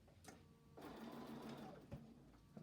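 A sewing machine stitches quilt fabric together in one steady run of rapid mechanical whirring, preceded and followed by brief quiet handling sounds, fairly faint overall.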